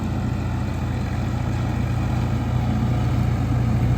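A Swaraj 855 tractor engine idling steadily, a continuous low diesel chug with a fan-like whir on top, close and unbroken throughout with no voices.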